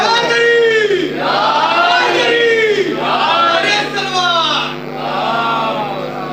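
A large crowd at a religious celebration for Imam Hasan in Banawan, Azamgarh, loudly chants slogans in unison. The voices come in sweeping repeated waves, close and powerful, with the phrases overlapping.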